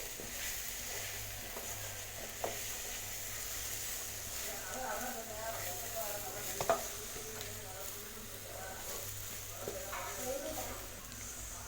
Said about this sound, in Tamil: மசால் பொடி போட்டதுமே நல்லா மிக்ஸ் பண்ணிடுங்க